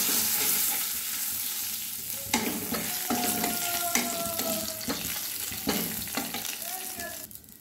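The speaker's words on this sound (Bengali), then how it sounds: "এবারে ফোড়নের জন্য অল্প একটু জিরে দিয়ে দিলাম, একটা শুকনো লঙ্কা, একটা তেজপাতা। এবার আমি ফোড়নটা ভেজে নেব।" Cumin seeds, a dried red chili and a bay leaf frying in hot oil as a tempering for a Bengali fish curry, a dense continuous sizzle with spoon stirring and scraping throughout.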